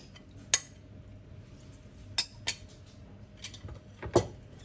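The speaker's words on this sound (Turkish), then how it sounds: "Ve nohut ekliyorum." Chickpeas being added to a dolma pot of tomato and paste mixture, heard as a few sparse, sharp metallic clinks against the pot with quiet hum between them.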